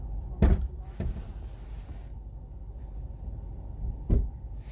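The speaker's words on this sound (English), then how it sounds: "he just slammed his door on my door" A car door slams against another car door: a heavy thud, a second knock a moment later, then a final thump after a pause. Heard from inside a car, fairly loud over a low rumble.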